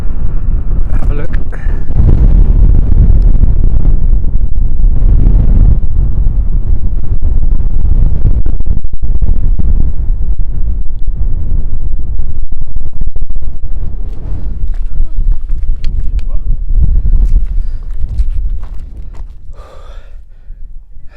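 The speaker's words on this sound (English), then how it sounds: "It's windy up here now, even though there's a low wind today." Strong wind on the summit of Pen-y-ghent on the Pennine Way, roaring hard and continuous across the microphone before easing a little near the end, with a person breathing heavily close by.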